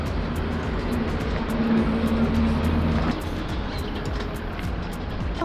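An RV, which has a fuel leak, pulls out and drives away, giving a steady, close engine rumble with a low tone that swells and then eases while the vehicle gets moving.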